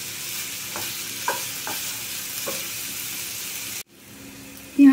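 Vegetable filling for spring rolls stirred in a pan, the spoon scraping in a few soft strokes over a steady background of frying, briefly cut off before a louder clatter at the end.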